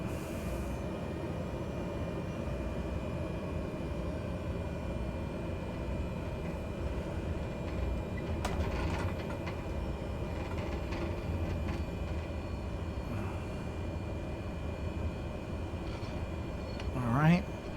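Steady, loud turboprop drone of a Cessna 208B Caravan's engine powering up for takeoff in Microsoft Flight Simulator 2020, a continuous rumble holding for the whole stretch with a brief swell near the end.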